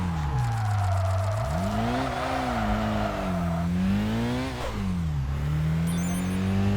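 A racing car engine in the video game Kaido Racer 2 revs loudly and continuously, its pitch dipping and climbing as the car shifts and accelerates through corners, with faint tire noise.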